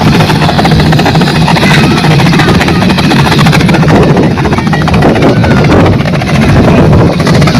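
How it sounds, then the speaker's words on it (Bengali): A helicopter lands near a floating hospital ship, a loud, continuous close engine and rotor roar that fills the whole stretch, with a voice talking underneath. "হেলিকপ্টার নামবে হেলিকপ্টার নামছে"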